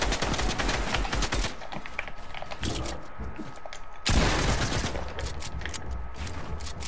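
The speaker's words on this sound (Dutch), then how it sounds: "twee zijn mij aan het schieten." Rapid Fortnite gunfire, dense loud bursts and rattling shots running almost continuously, with a brief lull in the middle before another heavy volley.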